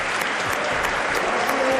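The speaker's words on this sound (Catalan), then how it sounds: "aquí està l'ovació del públic" Audience applause at a pilota match in Genovés, a dense, steady roar of clapping from the crowd filling the whole stretch with no letup.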